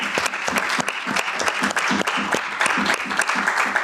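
A conference audience applauds steadily, a dense patter of many hands clapping close and continuous throughout.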